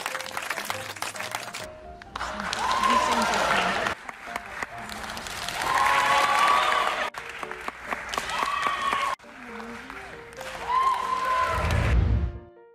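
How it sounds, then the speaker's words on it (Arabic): Theater audience applauding a stage worker who sanitizes the microphone, several separate bursts of loud clapping broken by brief silent cuts. "في كل مرة يقوم فيها عامل المسرح بتعقيم الميكروفون، يصفق له الجمهور"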